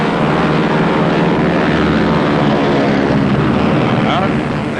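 A captured Junkers Ju-88, a WWII German bomber, gives off a dense, continuous roar of propeller engines. The loud, steady drone runs the whole time, with someone narrating over it.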